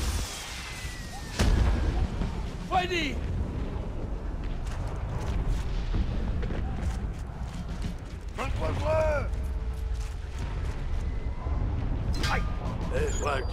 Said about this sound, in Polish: Wielka artyleria.